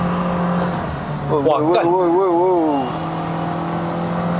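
A 2023 Toyota Vios NGC102 climbs the Genting hill road in Malaysia at full throttle, its engine droning steadily up close while a man lets out a brief excited exclamation over it.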